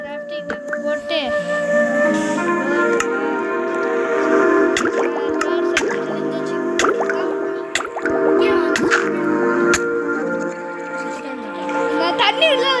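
Repeated soft drips and squishy liquid pops from water being placed among blocks in Minecraft, scattered across a busy stretch with a voice talking over them throughout.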